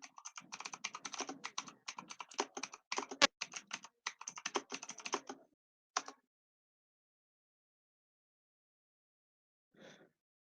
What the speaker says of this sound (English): Every time you're typing, I can hear you